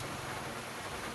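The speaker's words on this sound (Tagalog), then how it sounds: "napakalakas ng ulan ngayon guys" Heavy rain pours down in a steady, even hiss with no breaks, a dense continuous wash of falling water.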